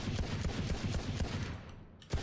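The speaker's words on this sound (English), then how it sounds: "I'm going to shoot as fast as I can so we can see the recoil." Rapid pistol gunfire in the video game Valorant, fired as fast as possible into a wall: a dense run of sharp shots in quick succession that trails off, then a single loud shot at the end.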